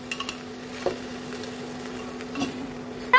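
Masale bhat rice stirred in a pan, with soft scraping and a low sizzle under a faint steady hum, and a few light spoon clinks against the metal; close and quiet.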